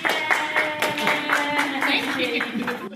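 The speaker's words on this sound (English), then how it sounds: "Give her a round of applause." A group claps for a kindergarten teacher in an elementary school classroom, brisk uneven clapping close by with voices mixed in throughout.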